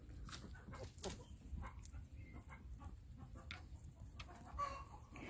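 Roosters and hens cluck and chatter softly to one another in a damp farmyard, scattered short calls rising over a low background hum, fairly faint and without talk.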